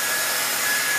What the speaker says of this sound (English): there are some construction work going on behind my wall